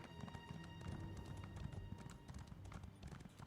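Galloping horse hooves in Elder Scrolls Online, a steady rapid clip-clop running throughout over a bed of game music and ambience.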